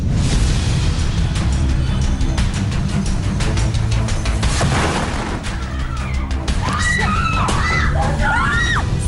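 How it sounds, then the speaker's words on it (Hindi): Balloons catch fire and burst with a huge boom at a birthday party in a hotel, with loud crashing blasts and dense crowd noise followed by rising, piercing screams and shouting. "एक बर्थडे पार्टी के दौरान गुब्बारे में आग लग जाती है और वहां होता है एक बड़ा धमाका।"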